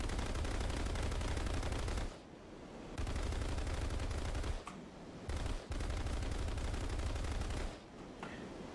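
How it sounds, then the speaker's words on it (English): A vehicle-mounted gun in the video game Ixwa Strike fires three long, dense automatic bursts with short pauses between them, loud and steady with no talk. "new gun sound"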